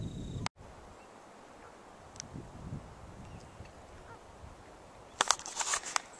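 A flock of birds honks in the open near a sandy spit, with sharp, bright calls bunched near the end over quiet wind and a faint background hush.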